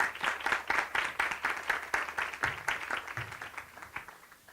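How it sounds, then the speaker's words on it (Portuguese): At a legal conference panel, an audience gives a round of applause, with crisp, rhythmic hand claps that are fairly close and steady for several seconds before tapering off. "Uma salva de palmas."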